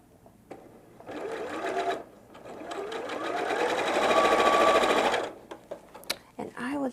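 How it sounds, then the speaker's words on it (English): A sewing machine stitches fabric in two steady whirring runs, a short one and then a longer one lasting several seconds, with quiet talk and small handling sounds around them. "And I will just sew this one at the same time here."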